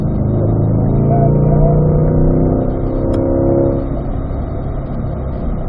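Race car engine on a racetrack drones loudly at high revs, then drops in pitch as it downshifts under braking, a steady close roar with no talk.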